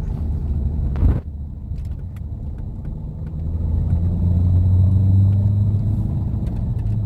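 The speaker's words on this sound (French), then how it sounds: "nous sommes à l'intérieur de cette Mégane 2 RS DCI. Sur nos petites routes sinueuses." Inside a Renault Mégane 2 RS dCi diesel on small winding roads, a steady low engine and road rumble with a brief louder knock near the start and a rising drone later, no talk.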